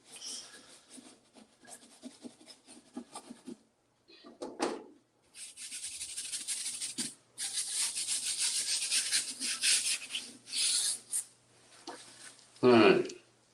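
Fingers rubbing oil paint across a canvas sky, a dry scrubbing and swishing in uneven strokes, near and moderately loud, with brief pauses and a person talking at times.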